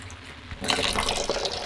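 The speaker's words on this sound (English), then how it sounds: "let's throw this water and let's fill it up with the clear water and compare it." Water splashing and gushing into a container as dirty lake water is dumped and the vessel is refilled with filtered water; a loud, steady liquid rush follows a quieter start.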